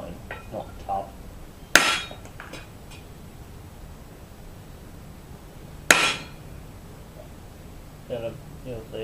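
Two sharp, loud metallic hammer blows several seconds apart strike a steel gauntlet plate over a pine wooden form to raise a crease, each ringing briefly, with quiet handling noises between.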